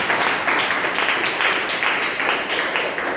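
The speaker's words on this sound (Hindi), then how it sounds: "तो उनके लिए एक बार जोरदार तालियां बजाएं।" An audience at a religious study seminar gives hearty rhythmic clapping, a steady pulsing patter of many hands that stays close and fairly loud throughout.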